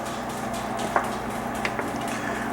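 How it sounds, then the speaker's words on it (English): A pot of curry chicken at a steady boil, low continuous bubbling with a few soft pops breaking the surface, fairly quiet and heard alone. "We got a pretty good boil going now."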